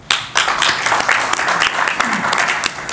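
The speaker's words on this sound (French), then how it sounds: "j'aimerais bien qu'on l'applaudisse." Members of a Rotary Club in Casablanca applaud at a project presentation, an abrupt, lively round of clapping that starts after a brief pause and stays close and loud throughout, with a voice faintly underneath.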